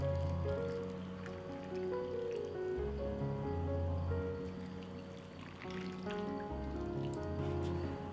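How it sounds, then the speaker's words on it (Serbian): Water poured into glass jars, a steady, fairly quiet trickle and splash running continuously with slight pauses where the stream shifts between jars. "I sada u svaku teglu sipam vodu."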